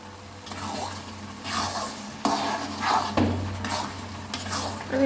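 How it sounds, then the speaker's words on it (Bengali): A spoon scrapes and stirs homemade mango pickle in a pan with five-spice powder, making repeated rasping strokes over a soft, low sizzle. "আমি এখন এটাকে ভালো করে নেড়ে চেড়ে রান্না করব।"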